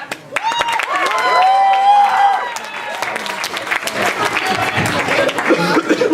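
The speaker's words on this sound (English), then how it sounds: "please give a warm round of applause for Matt!" An audience at a comedy show breaks into applause for a comedian being brought up, with loud sustained clapping and some cheering that tapers into scattered claps and chatter.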